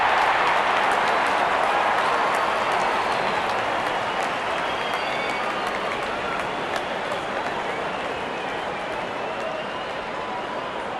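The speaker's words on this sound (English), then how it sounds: "the crowd cheering in anticipation" A large crowd at a cricket match cheers in anticipation as the openers walk out, a dense, steady roar of many voices with scattered claps, close and continuous, with a commentator talking over it.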